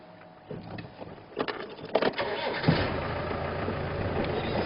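An engine starts on a safari vehicle during a leopard-viewing drive, with a few clunks and revs, then a steady mid-pitched idle as the vehicle pulls forward, close and fairly quiet.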